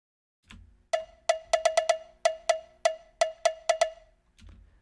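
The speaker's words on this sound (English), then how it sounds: "you can hear how it sounds with no groove." A metallic cowbell sample with no swing taps out a steady, evenly spaced pattern of around a dozen hits, sharp and dry with quick decays.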